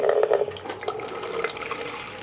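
Water is poured into a container during a salt-water and egg experiment, a continuous splashing trickle that is loud at first and then steadies into a softer flow, with no talking.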